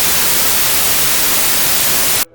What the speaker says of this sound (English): I hear a whole bunch of nothing but white noise